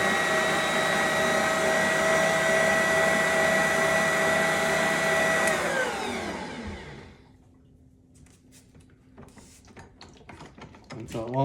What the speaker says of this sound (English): all I'm really trying to do is blend it so that the starter is not like clumped up and it all mixes